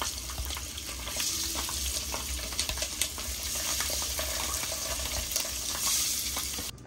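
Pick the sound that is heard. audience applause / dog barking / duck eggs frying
duck eggs frying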